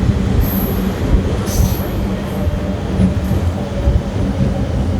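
A MEMU express train pulls out of Gudlavalleru station, its steady rumble and rolling wheel noise broken by high wheel squeals. No voices are heard over the continuous, loud rail sound.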